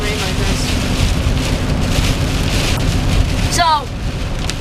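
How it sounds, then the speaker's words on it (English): Intense rain pounds a car while it is being driven, a loud, steady roaring wash across the whole clip with a brief voice-like warble near the end. "I've never driven in such intense rain before either"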